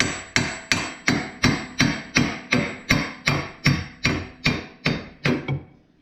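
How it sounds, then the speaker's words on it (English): A hammer taps the CV axle of a Ford Fiesta about a dozen times at a steady, even pace, each sharp metallic knock close and ringing briefly before fading, with no talk over it. "kind of lightly tap the CV axle just to get it off of the"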